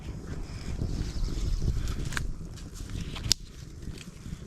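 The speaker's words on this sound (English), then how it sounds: "Hear the wind in the trees there, eh?" Gusty wind rushes through trees beside an outdoor campfire, a steady broadband roar that swells and eases over a few seconds, with a sharp brief crackle or snap partway through.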